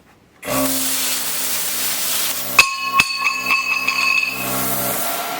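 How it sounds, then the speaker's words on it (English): Plasma cutter slicing a circle from steel, a loud, continuous hissing roar up close that starts suddenly, with a few sharp clicks and knocks partway through. "I'm not real good at the plasma cutter, but it's a circle."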